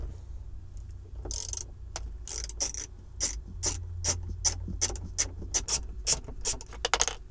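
Rapid clicking ratchet loosening two T30 Torx screws inside a 1997–2006 Jeep TJ center console, close and fairly loud, in short bursts of sharp ticks with brief pauses, growing more regular toward the end; no talking.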